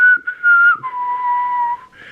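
A person whistles a clear melodic tune alone, close and fairly loud, holding a higher note, then dropping to a lower sustained tone before rising again, with brief breaths between phrases.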